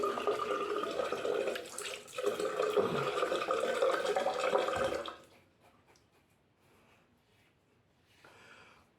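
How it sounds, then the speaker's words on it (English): Warm water runs steadily from a tap for about five seconds, then cuts off, leaving faint trickles and drips behind. "A bit of warm water there."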